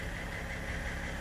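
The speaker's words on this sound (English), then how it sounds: "Yeah, engine is running." A BMW E-series car engine idles steadily, a low, even hum with slight vibration, faint and continuous, with no voices over it.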